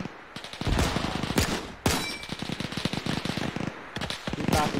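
Rapid WWII-era small-arms and machine-gun fire rakes a building in a D-Day video game battle: dense, loud bursts of overlapping shots with brief pauses between volleys.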